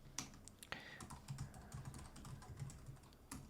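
An email address is typed on a computer keyboard, quiet irregular key clicks in quick succession with a couple of sharper taps, nearby and without any talking.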